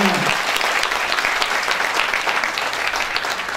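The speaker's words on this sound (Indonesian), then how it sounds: "Tepuk tangan untuk kita semuanya." An audience at an academic event in Yogyakarta applauds, with dense, steady clapping from a large crowd lasting the whole stretch, loud and close.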